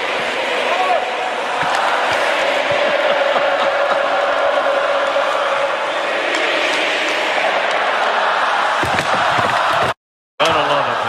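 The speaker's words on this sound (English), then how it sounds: "Listen to the crowd." A large crowd at an NHL hockey game sings and chants together, a loud, steady roar of many voices that cuts out briefly near the end.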